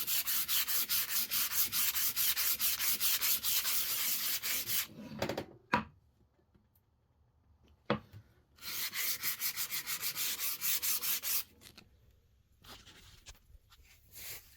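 A wooden hammer handle is sanded with 120 grit sandpaper in fast, close, rhythmic rasping strokes, with two sustained runs separated by a quiet pause and a few knocks.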